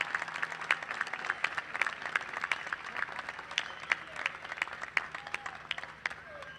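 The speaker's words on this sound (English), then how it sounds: "Applaud them as you stand here ready to graduate." Graduating students and guests at a 2017 college commencement ceremony applaud, a dense, continuous crowd clapping heard fairly faint and distant across the hall, with a few sharper individual claps standing out.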